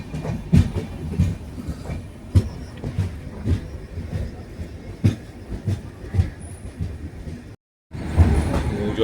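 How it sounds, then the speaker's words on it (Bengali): A train pulls into New Jalpaiguri station with rumbling wheels, rhythmic clacks and faint squeals that rise and fall in loudness, cut by a brief silent gap near the end; no voices. "ট্রেন ঢুকে পড়েছে।"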